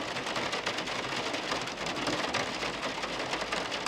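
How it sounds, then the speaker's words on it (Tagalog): Heavy rain drumming steadily on the roof of a small camper van, a dense, close patter with no voices. "lakas ng patak ng ulan"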